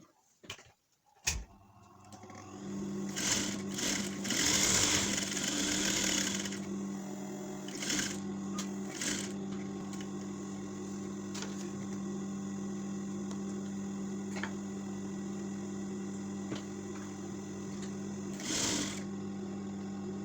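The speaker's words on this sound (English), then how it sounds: "To start stitching our dress, the first thing I will be doing, I will be stitching my pockets." Dress pockets are stitched on a sewing machine, which sets up a steady, even mechanical whir that runs almost without a break, with a few brief clicks near the start and a louder burst in the middle.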